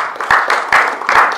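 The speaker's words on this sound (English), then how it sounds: "Give yourself a round of applause." Loud audience applause at a seminar, dense clapping from a crowd with rhythmic swells, close and steady for a brief stretch.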